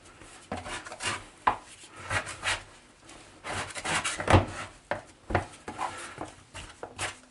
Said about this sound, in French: Je prends la corne, je viens racler un petit peu les bords.